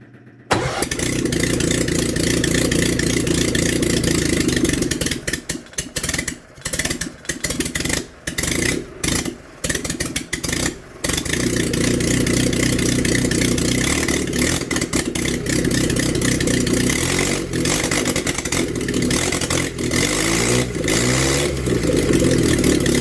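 A pre-war Austin 7 engine with a newly made exhaust starts, then idles loudly and is revved by hand with the choke partly on, with repeated throttle blips and brief dips, close and continuous.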